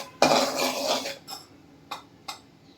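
Potatoes tossed with chili powder in a pan, with a long loud metallic scrape of a spoon against the pan followed by three shorter clinks and scrapes, close up.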